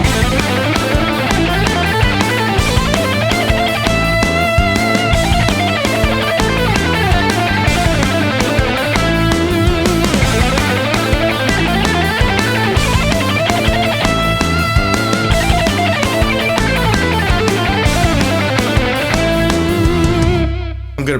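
An electric guitar with distortion plays a single-string picking etude called "The Shifter", a dense, fast stream of picked notes that shift around the neck for about twenty seconds, loud and continuous with no talking.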